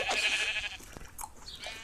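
Sheep bleat on a farm, a wavering nasal cry up close followed by a couple of shorter, fainter calls against a steady outdoor background noise.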